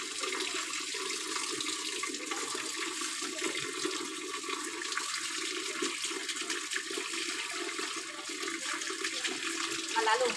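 Steady running water from a tap as a pet dog is bathed, a continuous hiss that stays even for the whole stretch.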